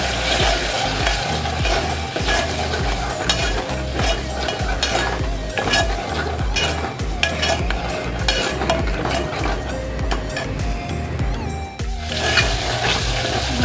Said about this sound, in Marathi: हे वाटण छान असेल मी परतून घेणार.